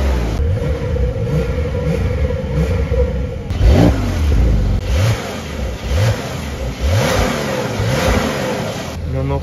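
A Porsche 992 Carrera 4S engine revs hard in repeated bursts with the exhaust valves open, rising and falling pitch with crackling exhaust pops, loud and close throughout.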